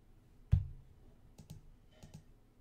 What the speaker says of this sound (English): clicking on the wrong one